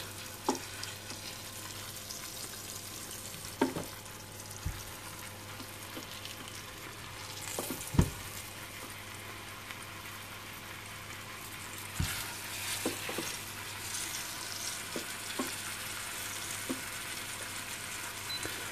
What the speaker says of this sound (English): My oil is nice and hot. I'm just going to seal this lamb.